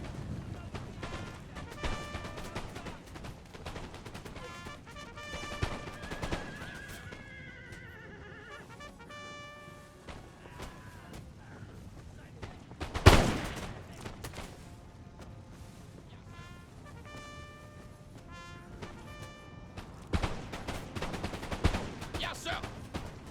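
Musket volleys crackle in a Napoleon Total War online battle, a sharp loud burst of gunfire standing out amid distant shots, horse whinnies and hoofbeats, with someone talking over much of it.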